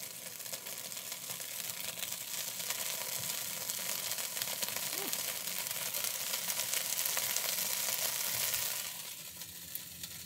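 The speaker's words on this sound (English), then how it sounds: "Now we have to fry the halloumi." Halloumi frying in a pan gives a steady, dense crackling sizzle that holds for several seconds, then drops a little quieter near the end, with no voices.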